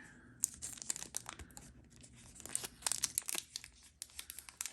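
Scissors snipping and tearing through the plastic top seal of a Modern Horizons II draft booster box, a series of close, crisp crinkling cuts with short pauses between them.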